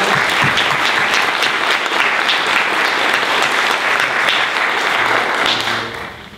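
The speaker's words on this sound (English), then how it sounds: "let's give them a round of applause" A room of colleagues at a staff meeting breaks into loud, dense applause that holds steady for several seconds and then thins out toward the end.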